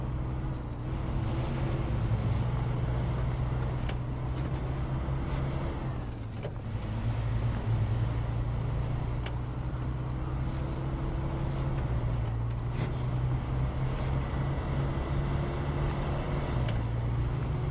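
A truck engine in the SnowRunner video game rumbles steadily at a low, constant drone as the vehicle drives along, with no talking.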